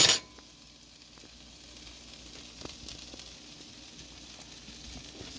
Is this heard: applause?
no